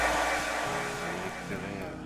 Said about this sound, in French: Avec son sèche-cheveux.